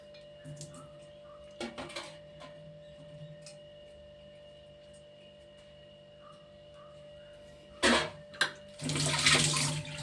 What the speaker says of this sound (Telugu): ఇందులో ఇంకొక వాటర్ వేసుకోగలదండి మనం